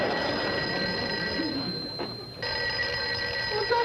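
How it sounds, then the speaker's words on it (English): Telephone ringing in an office conference room, a steady electronic ring tone that cuts off briefly midway and then resumes at moderate loudness. "Somebody answer the phone."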